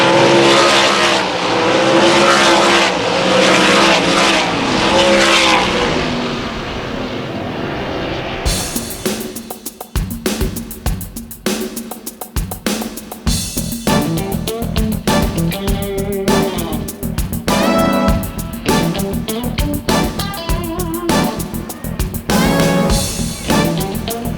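Race cars roar loudly through the close of a heat race at Susquehanna, a dense, continuous engine drone with a sharp shift partway through and cars passing nearby, with no talk.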